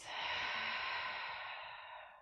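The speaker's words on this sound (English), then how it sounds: "Breathing out." A long, slow exhale through the nose during a yoga session, a soft airy rush held close to the mic that gently fades toward the end.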